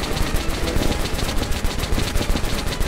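Minigun firing nonstop in the video game Metro Last Light Redux, a loud, dense rattling stream of rapid shots with no pause.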